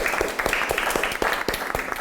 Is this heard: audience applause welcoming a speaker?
yes